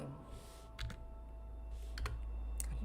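Scattered computer keyboard clicks come from someone playing Celeste, a few sharp, separate taps spaced over a low steady hum, close and fairly soft.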